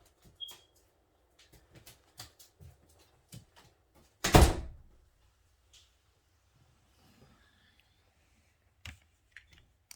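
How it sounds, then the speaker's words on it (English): A door shuts with a single loud thunk partway through, amid scattered soft clicks and small handling noises in an otherwise quiet room. "Close my door."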